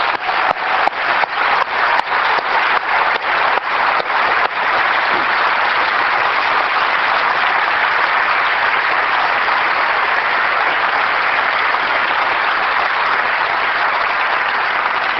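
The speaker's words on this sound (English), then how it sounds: "I also would like to give a round of applause to everybody at Apple who's been working on these 4 products." Audience applause at a 1999 Apple special event, a big steady roar of clapping filling the hall for about fifteen seconds, with a few sharp louder claps standing out near the start.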